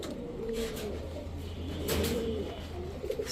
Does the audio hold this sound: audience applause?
no